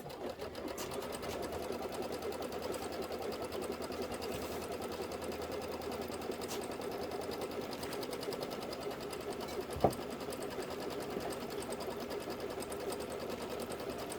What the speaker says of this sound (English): Let's do our placement stitch for all our batting.